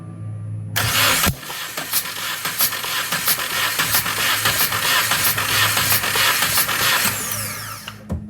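A 2017 Subaru WRX engine, its intake walnut blasted, cranks briefly then catches and runs, a close, loud, rough idle with uneven pulsing that holds steady for several seconds.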